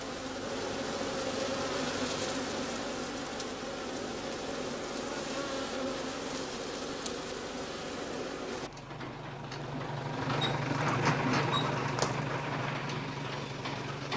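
Honey bees buzz steadily around straw skep hives set out on heather heath, a dense, continuous hum that swells slightly in the later seconds, with no voices.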